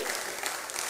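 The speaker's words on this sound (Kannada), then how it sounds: "ಒಮ್ಮೆ ಎಲ್ಲರೂ ಜೋರಾಗಿ ಚಪ್ಪಾಳೆಯನ್ನ ತಟ್ಟಿ" A folk arts festival crowd claps loudly at the release of a commemorative volume, a brief, thick burst of many hands clapping at once that lasts under a second.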